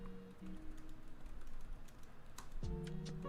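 Quiet clicks of typing on a computer keyboard, a few scattered keystrokes among low background hum and tones. No speech.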